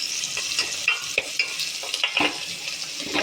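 Potatoes tipped into a hot pan keep sizzling and frying steadily while a spoon stirs them, with sharp scrapes and clicks against the pan cutting through the hiss at close range. No one speaks.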